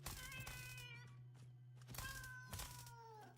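A video game cat meows twice in drawn-out, wavering calls over a steady electrical hum and faint clicking.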